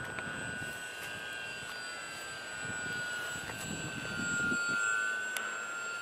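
A model airplane flying on an endurance test gives a faint, distant, steady whining drone over soft outdoor background noise.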